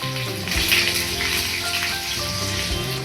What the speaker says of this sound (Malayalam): കടുക് പൊട്ടിത്തുടങ്ങുമ്പോൾ ഇതിലേക്ക് 1 വറ്റൽമുളക്, 2 ചുവന്നുള്ളി വട്ടത്തിലരിഞ്ഞത്, 2 കറിവേപ്പിലയും കൂടെ ചേർത്ത് നന്നായിട്ട് മൂപ്പിച്ചെടുക്കാം